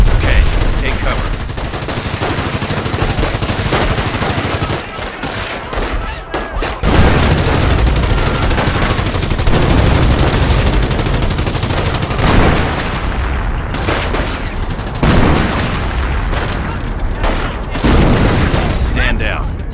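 Artillery strike and gunfire in the Company of Heroes strategy game: dense, loud, continuous barrage of booming impacts and rapid weapon fire, with voices speaking over the battle.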